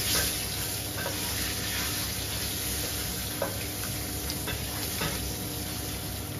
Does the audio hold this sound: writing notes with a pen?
no